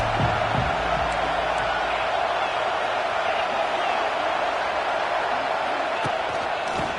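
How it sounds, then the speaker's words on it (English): A steady stadium crowd roar from the college football video game CFB 26 fills the whole stretch, loud and continuous with no clear voices on top. "This crowd ready to make its presence known."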